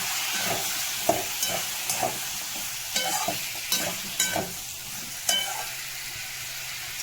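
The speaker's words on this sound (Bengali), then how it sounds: "রসুনও আদাও সব একসাথে দিয়ে আমি কষাচ্ছি।" Onions frying in a pan with garlic and ginger make a constant close sizzle, broken by repeated scraping and clattering strokes of a spoon as they are stirred.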